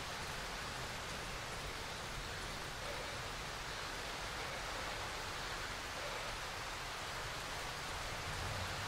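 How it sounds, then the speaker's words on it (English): Steady rain pours outdoors in the survival horror game Darkwood, a dense, continuous hiss of falling water with no breaks or voices, filling the scene evenly from start to finish. "He's standing outside in the rain."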